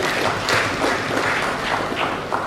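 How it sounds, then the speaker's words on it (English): Audience applause at a university registry in-house lecture series, a steady, dense wash of many hands clapping together throughout, fairly loud and continuous with no speech over it. "let's give her a round of applause too"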